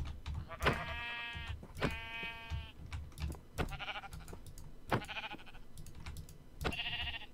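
Sheep in the Minecraft video game bleat several times in short, distinct calls spread across a few seconds, mixed with steady keyboard and mouse clicking.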